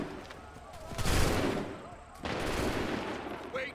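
Musket volley in the video game Assassin's Creed 3, two loud broadband bursts about a second apart, each swelling and rolling into crackling gunfire, with background game noise throughout.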